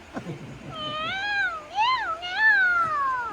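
A cat meows three times in drawn-out, wavering cries, close and fairly loud, after a brief faint rustle.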